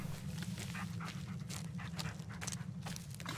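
A dog in the Blair Witch video game whimpers and pants close by in short, rapid breaths, steady over a constant low ambient rumble.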